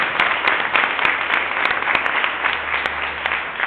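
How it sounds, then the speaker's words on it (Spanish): Church congregation giving loud applause during a sermon, a thick, continuous clapping roar with some sharper individual claps standing out. "Un aplauso bien fuerte."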